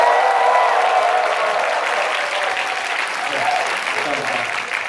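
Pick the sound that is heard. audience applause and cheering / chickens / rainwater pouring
audience applause and cheering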